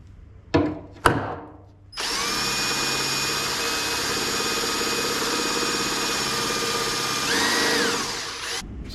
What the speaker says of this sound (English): just this step drill bit that progressively gets bigger and just see if I can drill out part of the head